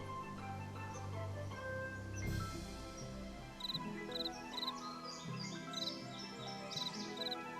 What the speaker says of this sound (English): I hear all the little bugs.